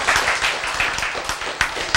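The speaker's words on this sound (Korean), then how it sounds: "박수!" A church congregation claps in quick, brisk rhythm, a steady patter of many hands close by that carries on with no pause for two seconds.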